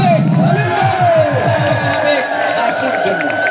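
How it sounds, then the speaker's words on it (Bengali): A crowd cheers and claps for a student at a school silver jubilee cultural program at Kaliganj High School, Naldanga, Natore. The sound is a loud, steady roar of voices and applause with whoops throughout. "হাসুর জন্য একটা তালিয়া চলছে"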